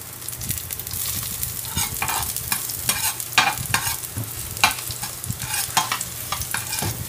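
Garlic frying in a little oil in a pan, a steady sizzle broken by repeated scraping and stirring strokes, close and moderately loud with no talking.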